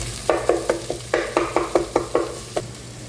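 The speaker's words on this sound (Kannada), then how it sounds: "ಟೊಮೊಟೊ ಸ್ವಲ್ಪ ಸ್ಮ್ಯಾಶ್ ಆಗೋಣ ತನಕ ಚೆನ್ನಾಗಿ ಮಿಕ್ಸ್ ಮಾಡ್ಕೊಳ್ಳಿ" Spoon stirring tomatoes frying in a pan for masala capsicum green chitranna: a dozen or so crisp scraping strokes in an uneven rhythm over a steady low sizzle, close and without talk.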